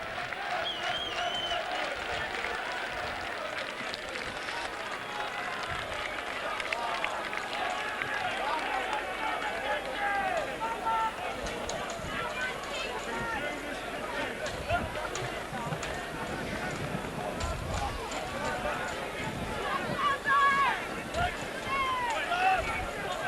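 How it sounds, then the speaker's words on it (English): Rugby league crowd at a Whitehaven versus Workington match roaring and clapping after Town extend their lead, a broad sustained wash of cheering with a commentator talking over it throughout. "you can hear what the crowd think of that"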